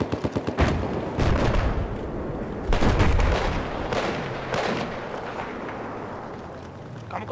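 Rapid bursts of Battlefield 4 gunfire on the Propaganda map, loud and close, with sharp repeated shots and heavier blasts fading into a rumbling, busy battle backdrop.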